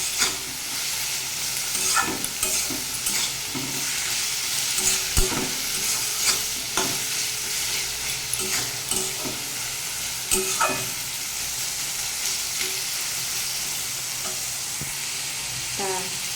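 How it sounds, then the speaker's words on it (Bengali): A vegetarian dish of snake gourd with ground sesame paste sizzles steadily in a pan while a spoon stirs it, giving repeated scraping knocks over the continuous close frying hiss. "এভাবে অনেক সময় ধরে নাড়তে হবে, নাড়তে নাড়তে গ্যাসটা মিশে যাবে সুন্দরভাবে।"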